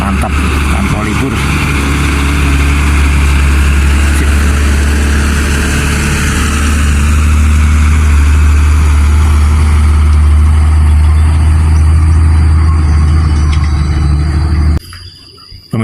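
Trucks run at the Kelok 18 road construction project in Bantul, Yogyakarta, with a loud, steady low engine rumble that holds for nearly the whole stretch before cutting off abruptly near the end; voices are faintly present underneath.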